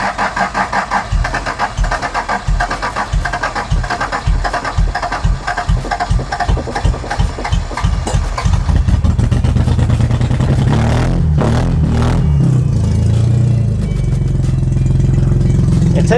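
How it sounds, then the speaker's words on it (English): A 1982 Toyota Celica Supra engine cranks with a rapid rhythmic chugging, catches and settles into a loud, steady close-up idle with some clatter. "It takes a minute to get it started, but it idles whenever it does start."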